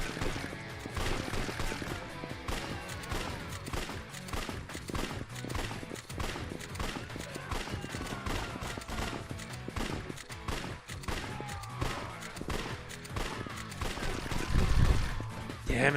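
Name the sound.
gunfire in a shooting exercise in the video game Yakuza 4 Remastered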